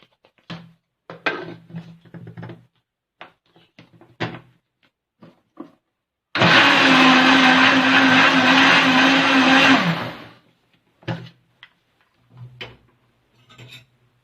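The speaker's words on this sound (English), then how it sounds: "and then you can blend it again." A kitchen blender whirs loud and steady for about four seconds, blending banana and oat pancake batter with baking powder; short clicks and handling knocks come before and after the run.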